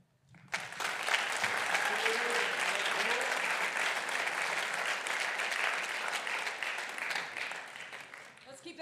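An audience at a student-athlete signing ceremony applauds the student athletes and their families, with sustained, dense clapping that starts abruptly, holds steady for several seconds, then tapers near the end.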